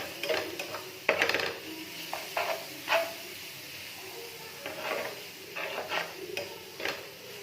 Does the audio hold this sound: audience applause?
no